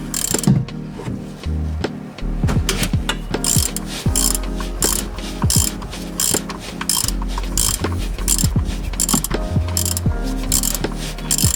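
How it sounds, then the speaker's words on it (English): A 3/8-inch drive ratchet with a short extension and a 6mm Allen bit loosens the oil drain plug on an E46 BMW M3, a loud, close, rapid clicking that runs steadily throughout. "short extension and my 6mm Allen on a 3/8 drive ratchet"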